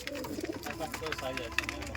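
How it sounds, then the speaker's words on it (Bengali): A Kaldom pigeon, a moulting single bird offered for sale at a home loft, coos in soft low throaty rolls close by, with someone talking over it throughout. "এই দেখো কালদম পায়রা দেখতে পাচ্ছেন আপনারা"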